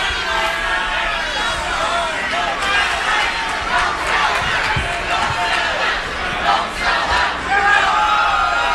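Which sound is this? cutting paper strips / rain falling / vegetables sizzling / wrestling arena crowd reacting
wrestling arena crowd reacting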